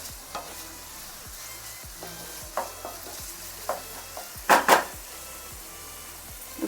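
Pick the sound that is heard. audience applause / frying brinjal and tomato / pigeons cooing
frying brinjal and tomato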